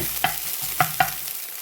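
Okra fries in a pan as a spoon stirs it, three sharp metallic scrapes and taps of the utensil against the pan over a soft background sizzle, close and clear, with no voices.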